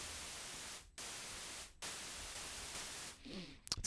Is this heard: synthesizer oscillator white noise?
yes